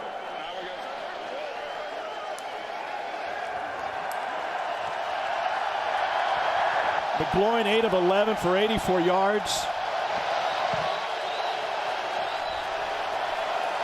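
Stadium crowd at an XFL pro football game in St. Louis rumbles steadily in the background throughout, swelling slightly midway, while a commentator talks over it.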